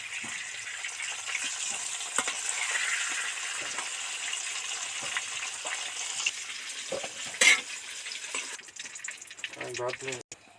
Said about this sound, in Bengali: এবার তেল ছেঁকে আলুগুলো উঠিয়ে নিচ্ছি